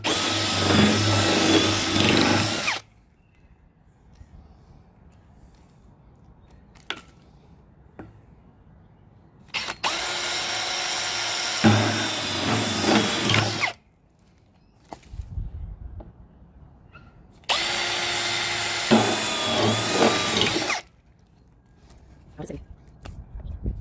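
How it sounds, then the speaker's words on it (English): Three loud bursts of a power drill with a hole saw cutting into PVC pipe, separated by quiet pauses with faint handling noises. "we'll grab the hole saw and then carefully begin to drill into the PVC pipe."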